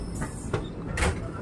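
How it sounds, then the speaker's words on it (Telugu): A train on the Prayagraj to Ayodhya line moves slowly along the railway track, giving a steady rumble with a few distinct wheel clacks over a short span. "గమ్యస్థానం మనకు దగ్గరలో ఉంది కాబట్టి మన ట్రైన్ అయితే స్లోగా వెళ్తుంది."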